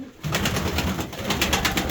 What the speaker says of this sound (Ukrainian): це в мене серпасті голуби